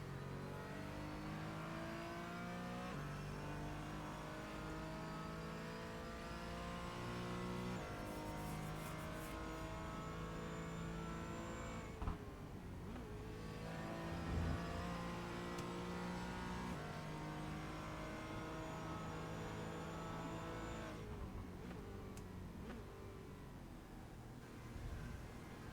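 Porsche Cayman race car engine lapping Silverstone in a racing video game, a steady loud drone of revving and shifting that runs unbroken throughout, with pitch rising and falling through gear changes and one brief thump midway.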